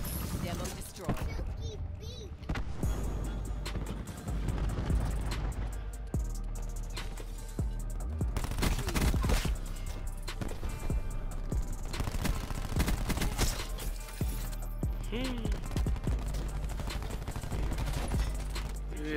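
Cordite rifle fire in a Call of Duty multiplayer hardpoint match, with loud sustained bursts and scattered shots running nearly continuously under game effects and voices.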